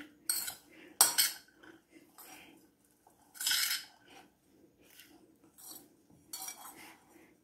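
A spoon stirs a salad seasoned with chili flakes and salt in a bowl, giving a series of close, irregular metallic clinks and scrapes against the dish with short quiet gaps between strokes.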